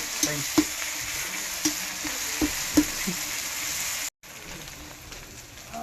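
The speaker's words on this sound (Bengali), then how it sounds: "খানিকটা এখন ভেজে নিব দিলাম" Spices fry in a pan with a continuous close sizzle, punctuated by a few sharp clinks and stirring taps, then a brief dropout before the sizzling carries on.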